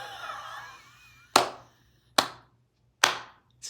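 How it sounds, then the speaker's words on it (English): Three slow, deliberate hand claps, evenly spaced and close, each a sharp crack after a stretch of faint background sound. "Slow clap."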